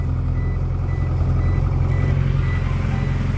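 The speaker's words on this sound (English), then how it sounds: "That's always there, that chiming noise that you're hearing." In a DA Integra, a JDi ghost box sends out a steady repeating electronic chime, loud and near, over the low hum of the running car.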